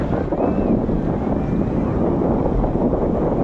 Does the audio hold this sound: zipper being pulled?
no